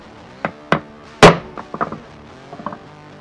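Block of wood taps a 36-gauge shotgun cartridge during reloading, giving several sharp, dry knocks at irregular intervals, one louder thunk in the middle, close and otherwise quiet.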